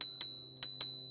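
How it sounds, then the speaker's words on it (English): Small handlebar bell on a Hiboy X300 electric scooter rung four times in two quick pairs, bright metallic dings with a lingering ring, close and clear. "It also has this cute little bell,"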